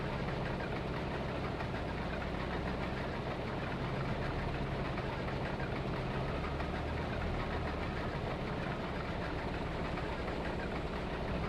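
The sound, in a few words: combine harvester engine running in Farming Simulator 22, video game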